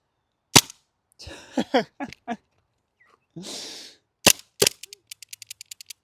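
Broomhandle-style full-auto gas airsoft pistol with a dry-fire magazine being racked and cycled, giving a few sharp mechanical clacks followed by a rapid, evenly spaced burst of light clicks, close and isolated with brief breathy hiss between.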